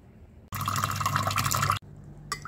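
Water poured from a tap or container onto a tablespoon of cornstarch to make a slurry, a close, bright splashing stream running about a second and a half, then stopping abruptly, followed by a faint clink.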